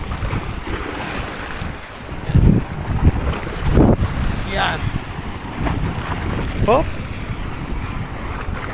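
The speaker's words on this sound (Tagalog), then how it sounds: "malakas ang hampas ng tubig dito mga guys oh." Strong water surging and slapping against the shore at a grotto on Laguna Bay in San Antonio, Philippines, heard as a steady close wash with wind buffeting the microphone and someone talking over it.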